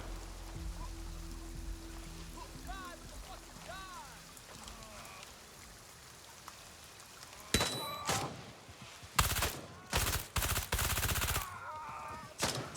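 Gunfire in the video game Gray Zone Warfare: after a quiet stretch of ambient birdsong and faint background hum, several sharp, loud shot bursts crack out in quick succession near the end, some close together like rapid fire.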